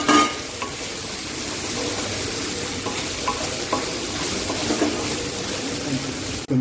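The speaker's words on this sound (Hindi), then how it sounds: "इसमें हमने अपनी प्याज डाल दी है और इसको हम थोड़ा सा भूनेंगे" Chopped onions fry with spices in a kadhai, giving a loud, steady sizzle and crackle close up, with faint scraping of a stirring spoon and no voices.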